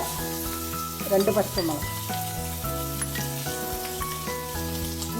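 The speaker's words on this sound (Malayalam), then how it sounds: "കടുക് പൊട്ടി തുടങ്ങി. ഇനി നമുക്ക് 1 ടീസ്പൂണ് ജീരകം ഇട്ട് കൊടുക്കാം." Mustard seeds, cumin and onion sizzle and crackle in hot oil in a pan, a steady frying hiss with a few louder pops and stirring scrapes, close by, while a voice talks over it.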